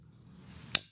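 Shoulder cannons on a Transformers Generations Deluxe Jhiaxus toy fire once with a sharp, close plastic snap, which stands out against near silence.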